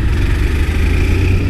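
A Honda Fan 160 motorcycle engine runs loud and close with a steady low throbbing drone, holding a constant pace with no talk.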